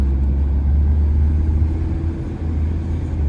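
A 1991 Ford Tempo car's engine drones steadily while driving down a track, a strong low rumble holding constant and close throughout with no speech.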